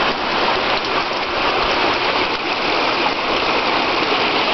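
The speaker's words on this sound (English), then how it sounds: "This is only a few hours of rain." Heavy rain pours down steadily and close on County Road 268 in Corinth, Mississippi, while floodwater rushes beside it, a dense continuous hiss with no pause.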